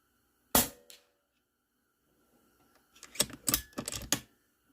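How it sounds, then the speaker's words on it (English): A DAR GEN-3 .22 PCP air rifle, tethered, fires at a target: one sharp crack near the start, then a quick run of four close snapping pops a few seconds later, with no talk. "I'm just going to shoot off a few shots here."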